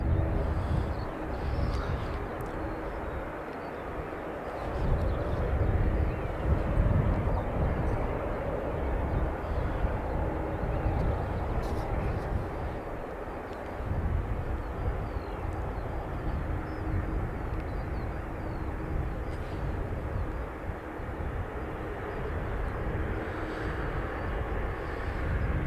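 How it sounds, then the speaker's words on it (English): An SAS airliner from Oslo arrives at Dublin Airport with a broad, sustained jet roar that swells and fades over about half a minute, heard from a distance. "Next arrival will be SAS from Oslo"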